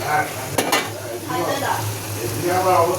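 Chicken meat drops into a hot pan and fries with a loud close sizzle, a couple of sharp clatters of utensils against the pan early on, and stirring noise underneath.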